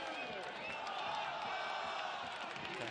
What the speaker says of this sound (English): And look at the crowd, all pumped up.